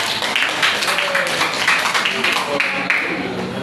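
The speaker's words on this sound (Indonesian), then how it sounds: "tepuk tangan dulu untuk kelompok 3" A high school physics class applauds a student group after its presentation. Dense, continuous clapping fills the room and voices mix in.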